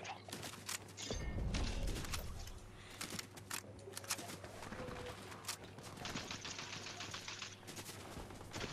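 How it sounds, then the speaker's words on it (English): Rapid gunfire aimed at a building in Fortnite: dense bursts of sharp shots crack repeatedly, moderately loud and close, with brief pauses between volleys. "Shooting at the building?"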